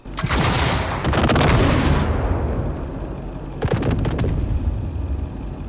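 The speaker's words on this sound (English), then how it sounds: "let me get the sound of the missiles" Video game missiles launch and explode in a loud, dense barrage of booms and blasts, with a heavy roar that eases after two seconds before another burst of sharp detonations.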